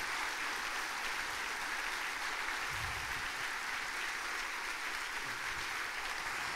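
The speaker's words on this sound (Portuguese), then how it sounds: "Aplauda Ele, aplauda" Soft, distant applause from a church congregation at a Portuguese-language miracle service, an even, continuous patter of many hands that holds steady throughout, with no clear talk.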